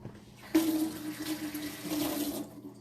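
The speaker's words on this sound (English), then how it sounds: "So I'm going to wash my hands." A kitchen tap runs into a sink for hand washing, a soft close splash of water starting abruptly and flowing steadily for about two seconds before cutting off.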